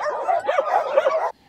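Laika dogs at a large kennel, a close run of yelping barks and whines lasting just over a second, then stopping abruptly, with no talk.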